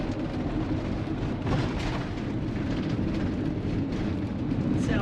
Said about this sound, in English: There we go over some bumps.